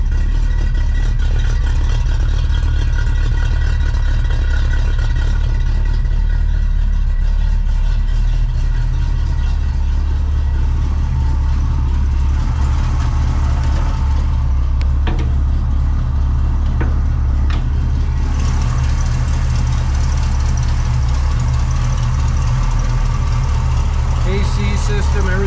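A 1971 Chevelle SS V8 with a four-barrel carburetor, HEI ignition and stock exhaust manifolds idles loudly and close by, holding a deep, steady rumble throughout.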